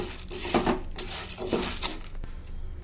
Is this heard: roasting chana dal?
yes